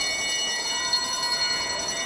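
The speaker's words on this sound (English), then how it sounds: "There's the bell for Lachlan Stewart." A bell rung to signal the final lap of a junior track cycling race at a national championships, its sustained ringing tones steady across the whole moment with a crowd or arena hum beneath.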